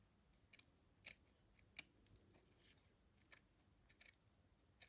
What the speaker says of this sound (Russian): Теперь я по контуру вот так все обрезаю.